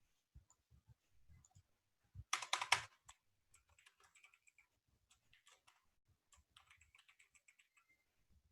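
Notes are tapped out on a computer keyboard in quiet, irregular bursts of clicking keys, with one louder cluster of clacks early on, heard close in an otherwise silent room.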